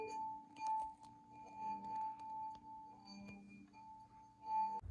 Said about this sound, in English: I'm gonna put my finger in the water and I'm gonna rub around the edge